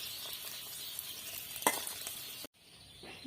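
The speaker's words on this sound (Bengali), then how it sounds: "পনিরগুলো খুব ভালো করে আমি ভেজে নিয়েছি দেখুন এবারে তুলে নিচ্ছি" Fried paneer pieces come out of the pan over a faint, low sizzle. A single sharp utensil clink rings out midway, then the sound cuts off abruptly to near quiet.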